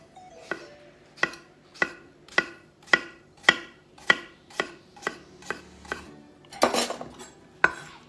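A knife chops through melon into wedges on a cutting board, giving about a dozen crisp, evenly spaced thuds with a brief clattering scrape near the end, close and clean with no talking.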